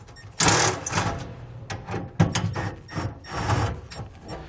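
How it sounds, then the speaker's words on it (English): Self-tapping screws being backed out of the latch cover on a BOLT toolbox, giving close, uneven mechanical rattling and scraping bursts in several clusters with no talking. "they're self-tappers, so sometimes when you're unscrewing them, the last little bit, you gotta just kind of pull out with it"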